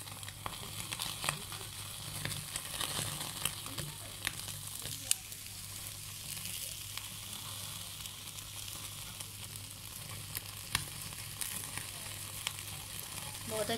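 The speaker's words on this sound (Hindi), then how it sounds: "बहुत अच्छी सी खुशबू आ रही है इसकी, बारबेक्यू हो रहा है।" Tandoori chicken pieces cooking in a pan give a quiet, continuous sizzle and crackle, with faint pops and occasional soft clicks over a low steady hum.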